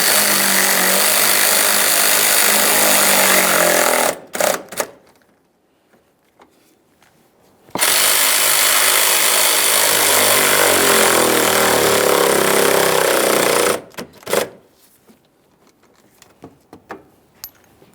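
A power tool drives and snugs radiator bolts on a 1994–2001 Dodge Ram 1500 5.2L V8 in two long, loud, steady whirring bursts, each ending in short stuttering pulses, with near silence between them.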